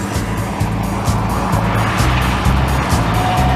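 A Lamborghini sports car engine runs loud and steady with the throttle open, a continuous roar carrying a rhythmic low pulsing and faint tire hiss throughout.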